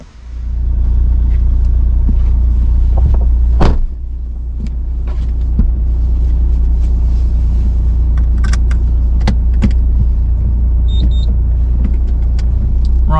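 A Fiat Panda 4x4 driving on its newly fitted differential gives a loud, steady low rumble from inside the cabin, broken by scattered clicks, knocks and a brief rattle.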